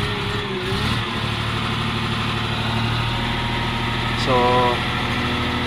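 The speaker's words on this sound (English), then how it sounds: "You can hear the sound of the engine." A Cat 950H wheel loader engine, misfiring and running with low power after starting, holds a steady, rumbling idle drone throughout, with a brief nearby voice and a short rising tone near the end.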